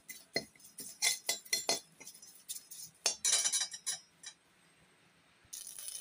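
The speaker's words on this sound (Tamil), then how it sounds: "நம்ம ஒரு கொத்து மிளகாய் வத்தலை நம்ம இதில் போட்டுட்டோம்" A bunch of dry red chillies dropped into a pan for dry roasting, heard as a quick run of close, light clinks and rattles against the metal, followed by quieter shuffling and then a brief rustle.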